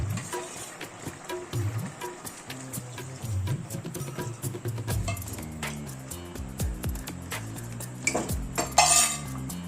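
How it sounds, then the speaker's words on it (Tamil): Gram flour batter being stirred into a pot of tomato gosthu, a busy series of close metallic clinks and scrapes of a spoon against the pot, irregular and continuous throughout. "இப்போ நம்ம கடல மாவு எடுத்து வச்சிருந்தோம் இல்லையா, அதை கரைச்சி இதில் சேர்க்கிறோம்"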